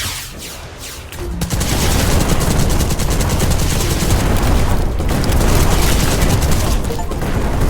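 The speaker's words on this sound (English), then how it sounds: "The cannon goes boom." Cannon fire in the video game Black Skylands, a dense, loud barrage of booming blasts and rapid crackling bursts that runs almost continuously after a brief quieter start.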